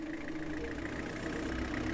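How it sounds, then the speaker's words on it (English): A car engine idles steadily on a hot summer day, a low, even rumble with a faint mid-range drone, continuous and moderately quiet with no clear start. "I started the engine and cranked the AC as high as it would go."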